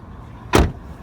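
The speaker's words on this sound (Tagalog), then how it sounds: "Yung pag alam mo yung pag nagsasara ka ng pintuan, medyo napapalakas minsan, 'di ba?" A Kia car door fitted with a B-shape rubber seal strip shuts with a single soft, muffled thud, close by and brief, over faint background noise.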